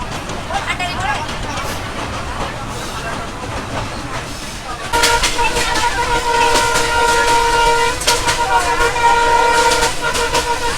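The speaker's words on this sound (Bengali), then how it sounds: "ট্রেন আবার ছেড়ে দিল" A commuter train on the Mongla–Benapole line rumbles steadily, growing louder halfway through with high metallic squealing and clatter as it pulls away from Jigargachha station; people talk underneath.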